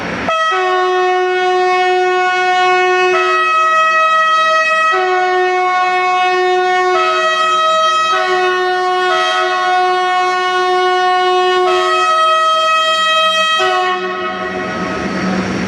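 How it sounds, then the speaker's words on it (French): An RTG turbotrain arriving under a vast station canopy with its siren wailing: loud, sustained horn blasts in repeated bursts, alone, before fading at the end. "toute sirène hurlante, le turbotrain se présente sous la vaste marquise"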